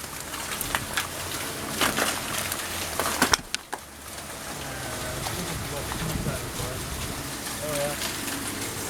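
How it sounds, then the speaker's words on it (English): Pea-size hail falls outdoors during a storm, a dense continuous patter with scattered sharp impacts and a loud clatter midway, with people talking over it. "It's kind of storming right now, and this hail."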